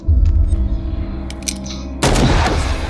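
A single loud gunshot in the 2022 video game Call of Cthulhu, a sharp broadband blast that cuts into a low droning ambient score and leaves a lingering noisy tail.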